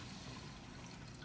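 Cold tap water pours steadily into a cup for bread dough, a faint continuous rushing splash with no break.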